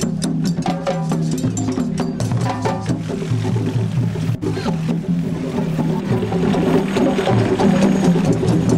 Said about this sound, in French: Je savais même pas que j'allais conduire le tracteur.